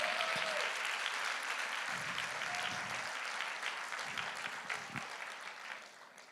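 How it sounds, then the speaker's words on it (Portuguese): Church congregation applauding for Jesus during a sermon: dense, steady clapping from a large crowd that holds for several seconds, then eases slightly toward the end. "Se você crê, aplaude a Jesus porque Ele merece."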